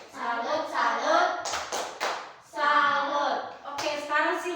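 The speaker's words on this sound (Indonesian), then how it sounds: "tepuk salut dulu untuk William" Children in an early-grade primary classroom perform a rhythmic salute clap, with bursts of sharp hand claps in short patterned groups, separated by brief pauses and mixed with young voices chanting along nearby.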